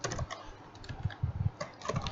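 C# code being typed on a computer keyboard, a close run of quick, irregular key clicks and taps in short bursts.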